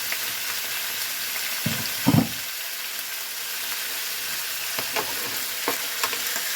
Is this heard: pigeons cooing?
no